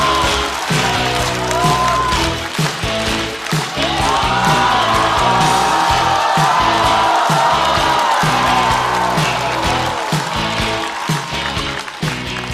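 Studio audience at a stand-up comedy show cheering and applauding as a comedian walks on stage, a loud sustained wash of clapping, whoops and yells with music playing underneath.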